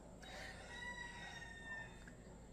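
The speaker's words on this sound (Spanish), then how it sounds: "el sonido de mi gallo Claudio en estos momentos" A rooster named Claudio crows in one sustained, drawn-out call at a moderate distance, layered over steady low background noise with no voices.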